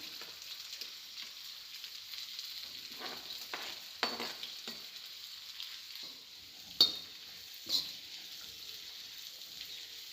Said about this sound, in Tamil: இது ஃப்ரைட் ரைஸ்க்கு ஆகிற மாதிரி ஹை ஃப்ளேமில் வச்சு just 2 to 3 minutes half cook ஆகிற வரைக்கும் நம்ம நல்லா இது சாட்டே பண்ணிக்கணும்